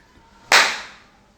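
A single sharp hand clap rings out in a quiet room to switch a clap-controlled light, one close, crisp burst that fades quickly into near silence.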